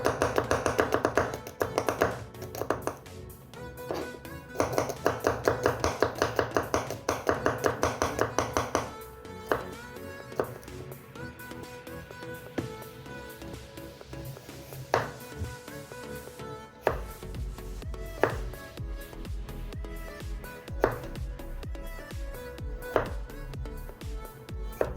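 Rapid tapping knife strokes on a board as garlic is chopped, dense regular bursts early then sparser sharp taps, fairly close, with no talking.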